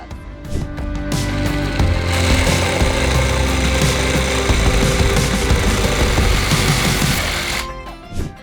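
A reciprocating saw cuts through a wooden pallet to shorten it by one slat width, a loud, steady buzzing rasp of the blade that runs for several seconds before stopping abruptly.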